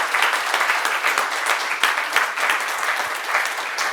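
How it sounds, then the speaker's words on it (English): A conference audience applauds a panel of speakers at a workplace design event, a steady, dense patter of many hands clapping at even loudness throughout, with no talk over it. "Please give them a big round of applause."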